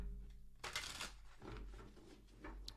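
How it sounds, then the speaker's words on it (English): A tarot advice card is pulled from the deck during a reading, a quiet close papery shuffle and slide with soft flicking rustles, faint over a low room hum. "I think I might want to pull one more advice card for you"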